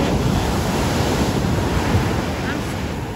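Ocean waves surge and crash onto a beach, a loud continuous roar of surf mixed with strong wind buffeting the microphone.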